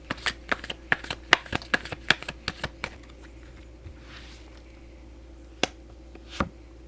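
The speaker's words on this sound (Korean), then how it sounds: "조언 카드 3장 뽑아보도록 하겠습니다" Tarot cards being shuffled by hand up close: a quick run of crisp slaps and riffles for about three seconds, then near quiet broken by two isolated card taps.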